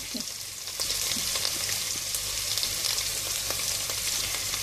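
Meat sizzles steadily in a hot pan while cooking for a spinach stew, with broadband frying hiss throughout and a few soft scrapes of stirring near and loud.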